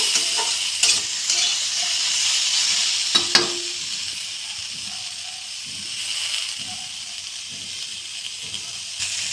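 Chopped tomato frying and being stirred in a pan for a paneer gravy, a steady close sizzle with repeated soft scraping strokes and a few sharper clacks of the spoon.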